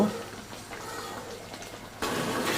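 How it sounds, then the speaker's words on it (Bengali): Haleem is stirred in a pot over medium-low heat, a soft bubbling, scraping texture that is moderately quiet, with a louder burst of stirring near the end. "মিডিয়াম লো হিটে ঘন ঘন নেড়ে হালিমটাকে একটু ঘন করে নিয়ে আসতে হবে"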